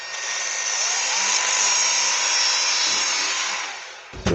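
A steady, high-pitched whirring grind of a small sanding disc sharpening a Husqvarna 266XP chainsaw chain runs continuously for several seconds, close by, then winds down at the end.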